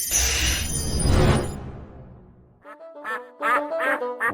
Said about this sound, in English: Ducky is a male mallard duck with a green head, a white body, and bright orange feet.